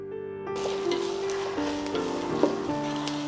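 Onion slices sautéing in a pan for chicken biryani give a steady, close sizzle with light stirring scrapes, a sustained frying hiss throughout with no talk, beginning abruptly after a brief quiet moment.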